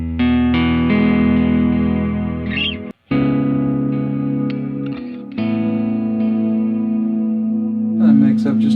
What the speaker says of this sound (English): So this is a reverb and a delay in one block, and it's in the delays block.